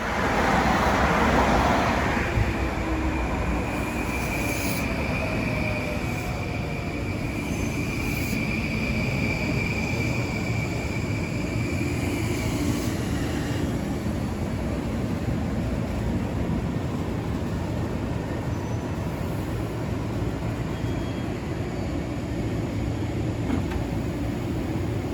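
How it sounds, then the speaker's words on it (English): An M9 electric commuter train rumbles at Kew Gardens station during rush hour, a loud, steady low roar sustained throughout with a brighter whine fading in and out near the start. "This is the train to Wantagh."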